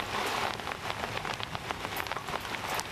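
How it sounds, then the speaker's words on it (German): Heavy rain pours down on a pond where moorhens nest, dense drops pattering steadily and loudly on the water surface with no voices. "Es gießt wie aus Eimern und schwere Tropfen prasseln auf das Wasser."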